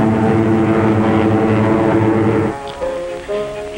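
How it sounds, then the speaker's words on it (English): A P-47 Thunderbolt and a Spitfire fly side by side, their propeller engines giving a loud, steady droning roar that drops off toward the end. "Your own American P-47, the Thunderbolt, side by side with a graceful spit."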